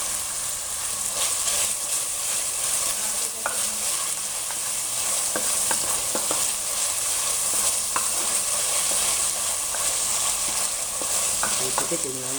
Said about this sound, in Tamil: போட்டு கொஞ்சம் நல்லா வதங்கி வர வரைக்கும் லேசாக காய்ச்சிக்கிட்டே இருங்க.